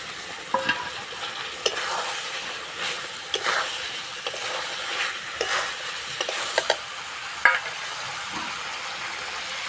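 Fried cauliflower florets being stirred in a pan of hot oil for a vegetarian potato-cauliflower curry, with a steady crackling sizzle and repeated scraping stir strokes, close and fairly loud, with no talking.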